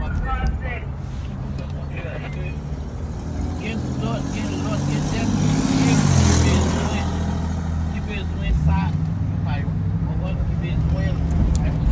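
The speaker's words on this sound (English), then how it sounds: "Currently in the car right now, so that's all that noise that you hear in the background." Steady low road rumble and engine hum heard from inside a moving car on a commute to work, swelling slightly midway, with a person talking over it throughout.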